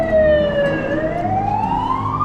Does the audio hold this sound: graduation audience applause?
no